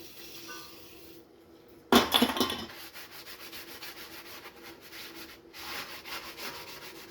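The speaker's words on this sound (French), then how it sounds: "Petit coup de brosse." A brush scrubs the slightly greasy brake hub surfaces on a Golf 6 during a disc and pad change: a sharp onset of brisk, close scratchy rubbing that continues as a steady, slightly fluttering scrub, with no talk.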